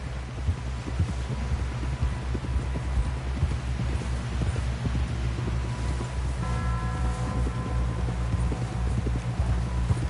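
Horse hooves clip-clop steadily in a video game, a close rhythmic trot over a low engine-like drone, with a brief harmonic tone rising partway through.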